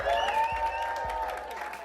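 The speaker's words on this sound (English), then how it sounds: "And everyone in the studio, y'all make some noise." A studio audience at a motivational speaker's show applauds and cheers, with a sustained whoop or tonal voice riding over steady clapping close by.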